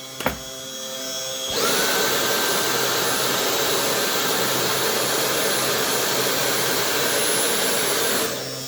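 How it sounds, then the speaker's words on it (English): A vacuum cleaner sucks acrylic debris off a CNC 3018 mill, switching on after a brief knock and holding a loud, steady roar with a high whine for about seven seconds before cutting off. "I'll have a vacuum this up so you can see it"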